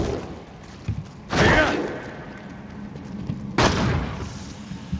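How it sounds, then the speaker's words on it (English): Two heavy, booming gun blasts go off in the game Diablo 3, each a loud percussive burst with a short decaying tail, spaced a couple of seconds apart over faint background ambience. "Sounds like a gun's going off"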